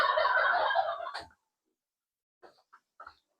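A loud, close turkey gobble rattles for about a second on a farm, followed after a pause by a few short, quieter gobbling calls.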